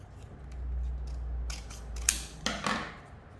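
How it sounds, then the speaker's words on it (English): Paper being snipped with scissors to cut out a triangle shape for an abstract fall circle tree art project: a few sharp, close cutting snips in the second half after a low background hum, with no talking. "So I'll just cut another triangle."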